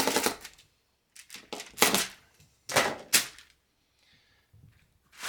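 Laminated foil tweeter membrane is cut on a frame in a few sharp, crinkly bursts separated by short pauses, close and fairly loud, with no talking.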